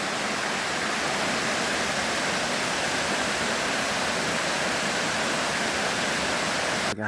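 A waterfall on a hiking trail roars in a constant, full rush of falling water, close and loud throughout with no voices.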